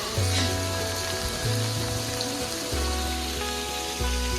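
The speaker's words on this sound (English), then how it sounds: "It's raining." Steady, dense rain hisses and patters at Red Rocks Amphitheater, loud and continuous across the whole stretch, with low droning tones shifting beneath it.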